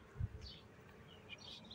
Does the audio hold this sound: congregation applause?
no